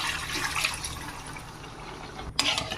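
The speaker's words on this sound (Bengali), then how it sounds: "এবার আমি হাঁড়িটা ধুয়ে মাংসের পানিটা দিয়ে দেবো" Meat stock being poured into a washed cooking pot for a taro and meat curry, giving a steady broadband liquid rush that carries through and ends in a brief splashy burst near the end.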